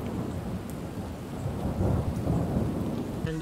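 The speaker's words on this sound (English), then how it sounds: "some cool little effects like this thunderstorm I added" A thunderstorm sound effect layered into a symphonic rock track: steady rain hiss under a deep rolling thunder rumble that swells toward the middle, dense and continuous, with no voices.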